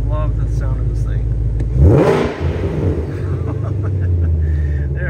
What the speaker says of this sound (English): give it a couple revs. I love the sound of this thing